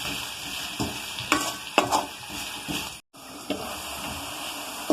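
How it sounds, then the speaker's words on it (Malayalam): Onions fry in a pan for a Kerala-style pepper liver fry, giving a steady, dense sizzle broken by repeated scraping stirs of a utensil against the pan, close and without talk. "ഇത് നല്ലപോലെ നമുക്ക് ഇളക്കി യോജിപ്പിച്ച് സവോള ഒന്ന് വാടി വരുന്നോടം വരെ ഇളക്കി യോജിപ്പിച്ച് മൂടി വെക്കാം."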